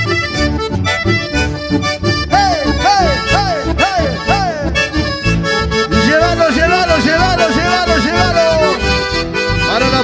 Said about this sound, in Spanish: vamos a seguir nosotros con todo lo que es la música del litoral